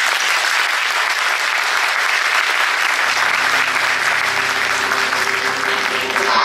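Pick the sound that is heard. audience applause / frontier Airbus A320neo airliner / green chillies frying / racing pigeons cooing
audience applause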